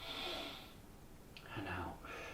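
Slow, deep inhalation during a quad stretch in a bed-based yoga session, a soft airy breath drawn in close to the mic, swelling and fading over a couple of seconds.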